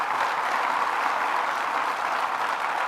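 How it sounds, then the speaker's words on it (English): Audience applause for Medina award recipients at a Finger Lakes regional investment announcement, a steady, dense wash of clapping filling the room without a break from start to finish. "Let's give them another round of applause."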